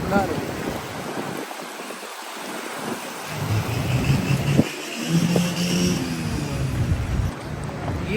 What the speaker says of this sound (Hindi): इधर बारिश हो रही है